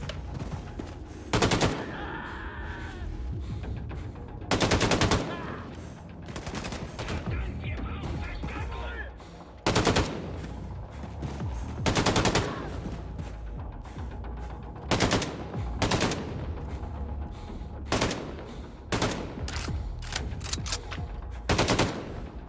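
Bursts of automatic gunfire in the shooter game Wolfenstein 2: The New Colossus, loud rattling volleys repeating every second or two over game ambience, with a player's voice talking in places.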